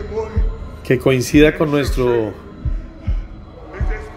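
Thumping heartbeat from the horror game Man of Medan, a few low pulses beating at a steady pace, partly under someone speaking Spanish.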